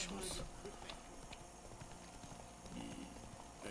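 Horse hooves clip-clop in steady rhythm through The Witcher 3 while a rider travels out through a village gate, with a voice talking over the game sound and a brief whinny-like cue.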